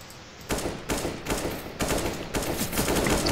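Video game gunfire in CS:GO comes in several rapid, loud bursts of automatic shots, separated by short pauses, with no talking.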